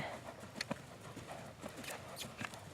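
A horse's hooves beat a quick, uneven clip-clop on the ground at a canter during a riding session, fairly faint and close, with a rider talking over the hoofbeats.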